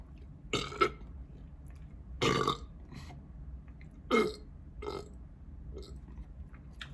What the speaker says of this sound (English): That wasn't a good burp.